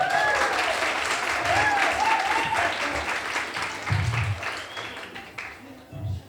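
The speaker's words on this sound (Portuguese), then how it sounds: "Vamos receber ele com palmas, com aplausos, por favor." Audience applause rises to welcome a guest, the municipal education secretary, onto a talk show stage, a steady dense clapping that fades slightly toward the end, with a voice speaking over it and faint musical tones at the start.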